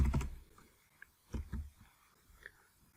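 Soft, faint keystrokes on a computer keyboard come in a few sparse clusters, with a quiet pause between taps.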